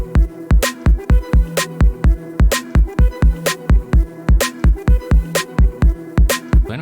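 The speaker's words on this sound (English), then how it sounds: "So with the drums." Electronic drums in a produced music track: a steady, punchy kick and snappy hits with crisp hi-hat accents in a repeating groove under a sustained synth tone, loud and upfront with no talk.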